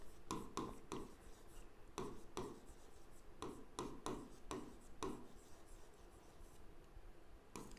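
A pen scratches out short strokes in an accounts book as a date and entry are written, quick scribbling bursts separated by brief pauses, close and quiet with no talking.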